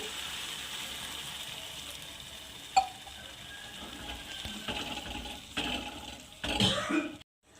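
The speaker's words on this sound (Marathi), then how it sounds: "फोडणी बघा आता छान पाणी टाकू" A soft sizzling hiss of tempering in a pan for tomato kadhi, with a sharp clink and then bursts of louder bubbling and spattering near the end as water goes in.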